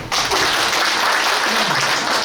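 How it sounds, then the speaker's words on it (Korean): An audience at a national park ecotourism debate forum bursts into a short round of dense clapping that starts abruptly and holds steady for about two seconds. "그리고 박수 한번 치우시다."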